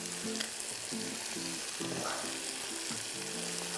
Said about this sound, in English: So now we have to fry it all until onions will be really dark brown